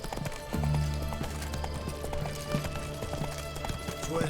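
A horse gallops in The Witcher 3 video game, its rapid rhythmic hoofbeats clopping steadily and clearly throughout, with a faint brief voice near the start.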